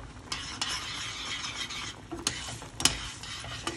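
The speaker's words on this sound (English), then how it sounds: "We're going to stir this right in, and we're gonna let this combine together" Coconut and sugar mixture stirred in a pot for Jamaican coconut drops, a close, steady scraping and sizzling with a few sharper clinks of the spoon against the pot, no voices.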